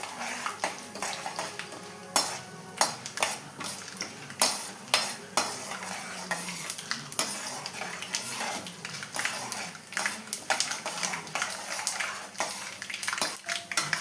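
Chana dal frying in a pan for a potato masala, a soft sizzle under repeated sharp scrapes and clinks of a stirring spoon against the pan.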